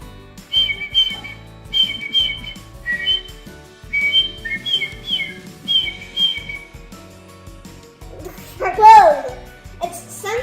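A person imitates the call of a swamp bird with a series of bright, repeated whistled phrases, then a rising and falling warble near the end, heard close with speech-like sounds between.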